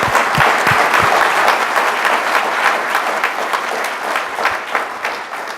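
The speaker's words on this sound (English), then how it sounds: "So can you give them also a round of applause, please?" Applause from the audience at an awards ceremony, a full crowd clapping steadily and loudly for several seconds, tapering slightly toward the end.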